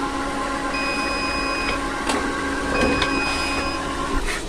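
A DTF printer runs its self-cleaning cycle with a steady mechanical hum, thin electronic tones and a few soft clicks, close and continuous.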